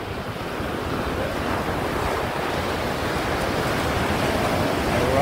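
Big ocean surf at San Juan, La Union, roars as a continuous loud broadband wash of breaking waves mixed with wind buffeting the microphone, steady throughout with no voices.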